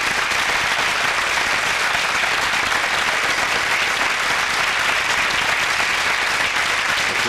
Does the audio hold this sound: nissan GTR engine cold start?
no